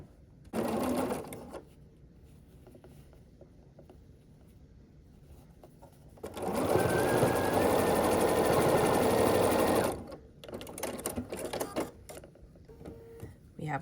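A sewing machine with a 1/4 inch foot stitches scrappy quilt block units together in two runs, a short burst followed by a longer steady whir, with quiet handling noise between.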